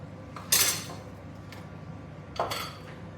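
A frying pan knocks and clinks against a stovetop or utensil as desi ghee goes in for a Punjabi matar paneer, two sharp metallic clatters with quiet kitchen hiss between, no talking.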